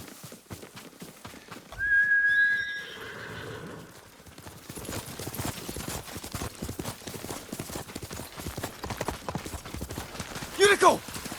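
A horse in the game Ghost of Tsushima gives a loud, clear whinny, with steady clip-clop of hooves continuing underneath, a sharp whistle-like call near the end.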